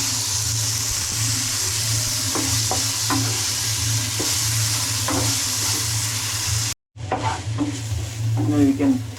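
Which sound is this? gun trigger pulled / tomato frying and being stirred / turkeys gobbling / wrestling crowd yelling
tomato frying and being stirred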